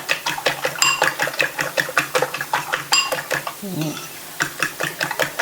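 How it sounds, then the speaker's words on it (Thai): Eggs being beaten with seasoning powder in a bowl make a steady, rapid rhythmic clatter of utensil against bowl, close and fairly loud, with someone briefly talking partway through. "ใส่ผงปรุงรสไป ครึ่งช้อนชา แล้วก็ ตีให้เข้ากันนะคะ"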